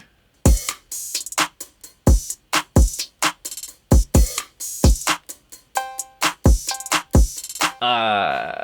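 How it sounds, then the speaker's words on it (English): A hip hop drum loop with punchy kicks and snares in a steady groove, hi-hats ringing open between hits, ending in a brief sustained synth tone. "So altogether, drums sound like this so far."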